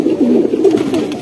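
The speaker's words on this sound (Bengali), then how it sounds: "এগুলো একটি নাপ্তা কবুতর" Napta pigeon giving a short, close, low throaty coo in soft rolling pulses.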